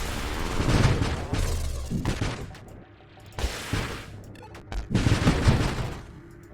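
Missile launches and impacts in the space shooter Nova Drift, repeated bursts of crackling blasts and booming hits coming in waves at moderate volume, with short quieter gaps between volleys.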